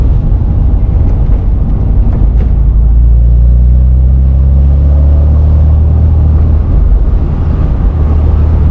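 A Porsche Boxster 986 flat-six engine is driven hard, a loud, steady in-cabin roar with a deep drone whose pitch climbs as it revs under acceleration, heard continuously with no talking.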